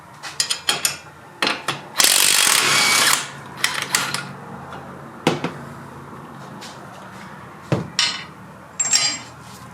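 Hand tools clank and ratchet while loosening bolts on a Nissan Altima front strut: a string of sharp metallic knocks and clicks, close by, with a brief rasping burst in the middle and no talking.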